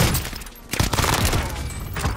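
Rapid gunfire from an AS44 assault rifle in the battle royale game Warzone, a dense run of shots that starts after a short lull and keeps going steadily to the end at moderate loudness.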